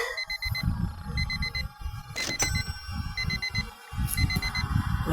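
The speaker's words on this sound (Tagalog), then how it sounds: "so turn off the alarm" An alarm clock in a Roblox horror game beeps in quick repeating bursts of four, pausing between groups, over loud low thumping noise, with a sharp crash near the middle.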